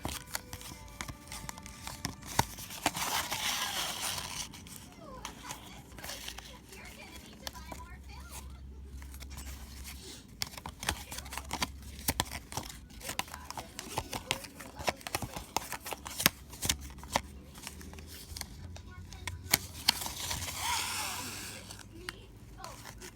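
Paper ribbon twisted by hand while shaping a ribbon rose gives close, soft crinkling and rustling in irregular bursts, with a few brief louder crackles over a faint low background hum.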